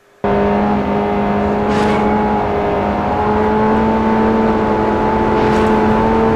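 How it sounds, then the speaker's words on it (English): A steady, loud synthetic car engine drone from the video game Forza 4, with constant tonal hum, holding a fairly even pitch throughout after an abrupt start. "Here we go. Car sounds."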